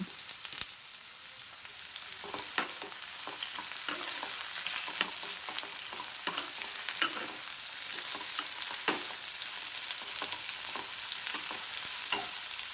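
Bitter gourd frying in a pan for theeyal, a continuous crackling sizzle with frequent sharp spatters and occasional stirring scrapes, steady and close without speech.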